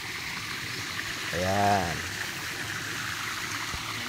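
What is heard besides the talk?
waterfall and flowing stream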